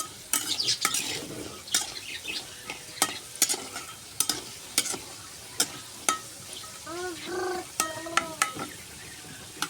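Potato pieces frying in oil, seasoned with turmeric and salt, a continuous low sizzle broken by repeated sharp scrapes and clinks of a spatula stirring against the pan, with a faint cat-like mew near the end.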